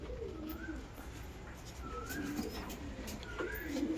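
Pigeons coo repeatedly in a breeding loft, soft rolling calls rising and falling every second or so, fairly close and alone without talk.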